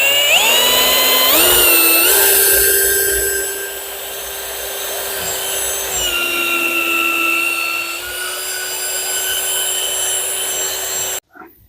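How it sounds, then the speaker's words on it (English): A power drill bores into pergola timber with a long bit, whining loudly with pitch shifts as it bites deeper, running continuously before stopping. "Long drill bit, might have to stand back a bit."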